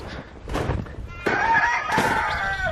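Chickens and a rooster named Andy crow and cluck nearby, a loud drawn-out crow rising after a few rustling thumps.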